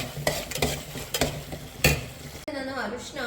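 Tamarind curry in a pan bubbles and sizzles while a spoon stirs it in several scraping bursts, followed by a voice talking near the end.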